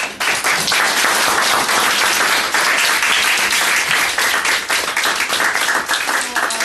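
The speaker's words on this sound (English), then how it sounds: "So let's give another round of applause." An audience claps after a lecture, a dense burst of applause that starts abruptly, stays loud and sustained, and thins slightly toward the end, with no speech over it.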